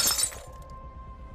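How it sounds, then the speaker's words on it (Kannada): A glass falls and shatters in a kitchen as a horror sound effect: one sharp, bright crash of breaking glass at the start, followed by a quick fade into a thin lingering tone. "ಸಡನ್ನಾಗಿ ಅಡುಗೆ ಮನೆಯಿಂದ ಗ್ಲಾಸ್ ಬಿದ್ದು ಹೊಡೆದೋಗೋ ಥರ ಶಬ್ದ ಬರುತ್ತೆ."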